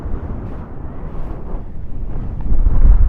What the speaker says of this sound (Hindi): पानी उठ रहा है लेक से, हवा चल रही है बहुत तेज।